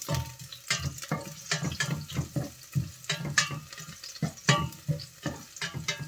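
Garlic sautéing in hot oil in a pan, with steady sizzling broken by repeated scraping stir strokes in an uneven rhythm, close and clear with no talking.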